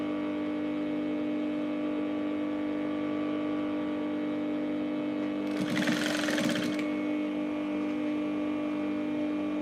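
A sewing machine stitches fabric for a sleeve, a steady mechanical hum broken by a short burst of fast, rattling stitching near the middle, close and alone without talk.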